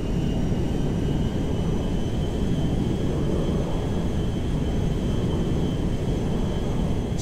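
A private jet in Grand Theft Auto V roars steadily as it flies toward an airfield, a loud, continuous engine drone with no break across the whole stretch.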